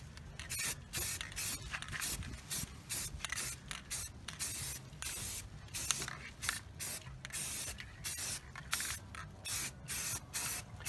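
Spray paint hissing onto rusty metal in repeated short bursts, close and steady, with brief gaps between each pass of the can.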